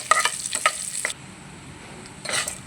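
Tempering spices with asafoetida and curry leaves sizzle and crackle sharply in hot oil in short bursts, fading to a quiet simmer before another crackling burst.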